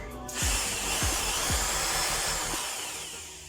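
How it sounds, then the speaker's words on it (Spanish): A small electric drill converted into a polisher whirs at high speed, with a few dull knocks and bumps as it spins up and runs steadily. "un taladro convertido en pulidora"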